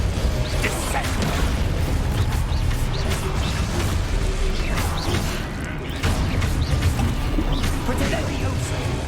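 Spells crash and slam objects down in Hogwarts Legacy, a dense run of mechanical clanks, creaks and heavy impacts filling the scene with a steady loud roar beneath them.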